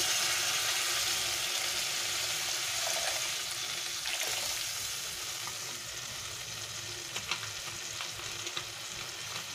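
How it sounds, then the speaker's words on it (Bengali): Water poured into a pan of tilapia curry, cooked without onion or garlic, sets off a steady, loud sizzle and bubbling hiss that eases slightly partway through, with a few sharp crackles near the end. "এবারে আমি পরিমাণ মতো জল দিয়ে দিচ্ছি"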